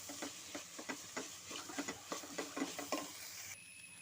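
Onions sauté with a pinch of salt in a pan for roasted beef curry, giving a soft steady sizzle broken by regular scraping stirs, close and fairly quiet.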